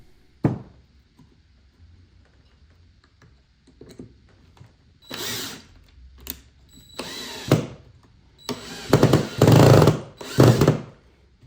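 A power drill drives screws into a wooden shoe rack in several separate bursts, each a few seconds long and separated by quiet pauses with small knocks and handling sounds, the last bursts the longest and loudest.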